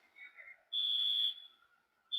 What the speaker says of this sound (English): And time is up, and there goes the whistle